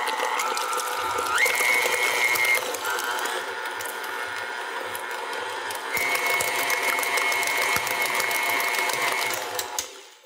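An electric mixer whirring through lemon cheesecake batter, a close, continuous mechanical hum and rattle that shifts pitch slightly as the speed changes.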